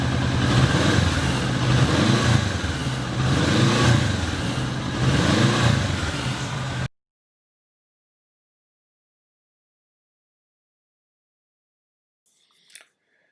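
Kawasaki Vulcan S motorcycle on its stock exhaust, revved several times in rhythmic swells, loud and close for about seven seconds, then silence with one brief faint click near the end.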